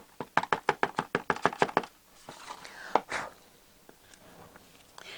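A greeting card tapped repeatedly on a hard surface to shake off loose glitter: about a dozen quick, sharp, close knocks in a steady rhythm, then a few scattered taps and rustles.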